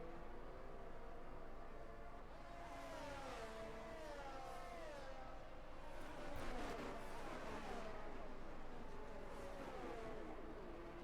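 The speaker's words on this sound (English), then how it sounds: "Oh, don't you just love the noise of those engines?" Several Formula 1 race car engines in an F1 video game race in the USA, high-pitched revving whines rising and falling together and overlapping continuously, with a brief louder surge about two-thirds through.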